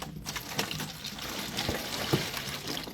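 Neem powder mixture is poured into a garden can, giving a soft, continuous watery trickle with small splashes, close by and fairly quiet.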